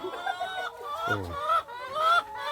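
Chickens on a laying-hen farm cluck and murmur close by, a few short calls overlapping, with one lower throaty call in the middle.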